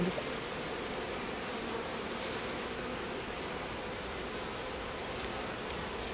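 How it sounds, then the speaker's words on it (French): A dense, continuous buzz of many honeybees at an opened hive fills the air close by, even and unbroken throughout. "les abeilles sont déjà descendues parce que j'ai déjà chipoté dans la ruche avant"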